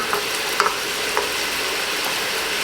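Food sizzles steadily in a pan in a home kitchen while it is stirred, with a constant loud hiss and a few light scraping knocks scattered across it.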